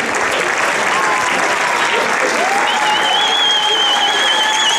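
Steady, loud applause fills the hall for the U13 fair play award winners from Saint-Léonard at a youth football tournament prize-giving, with a whistle-like tone gliding over the clapping.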